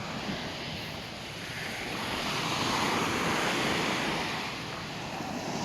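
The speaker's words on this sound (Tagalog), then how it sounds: "Dalang dagat, malaking alon" Heavy ocean surf roars continuously up close, a broad washing rumble swelling and easing, with wind buffeting the microphone.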